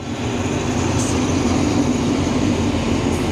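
A steady rumbling roar of a train rolling past a market in Lampang, Thailand, constant and fairly loud throughout, with a faint higher squeal briefly near the middle.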